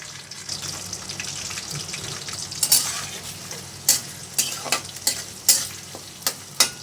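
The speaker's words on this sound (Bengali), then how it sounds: "কিছুক্ষণ একটু পেঁয়াজ আর মশলাগুলো ভেজে নেব" Onion fried in a pan with cloves, cardamom, bay leaf and cinnamon, giving a steady crackling sizzle, with sharp spoon scrapes against the pan coming more often in the second half.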